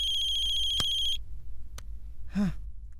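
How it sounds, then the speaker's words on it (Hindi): A telephone rings with a steady electronic ringtone for about a second before cutting off, followed by a sigh and quiet background in a home scene from a film. "जरूर ये फोन समीर की दादी का होगा।"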